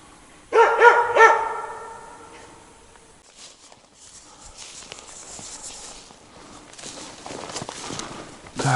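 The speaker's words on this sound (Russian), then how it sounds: "Собака там лает" A dog barks a few times in quick succession, loud and nearby, followed by quieter rustling and shuffling sounds.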